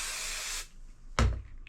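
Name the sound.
spray adhesive sprayed onto quilt fabric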